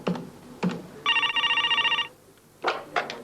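A telephone bell rings in one trilling burst about a second long, set between a few brief thumps and knocks.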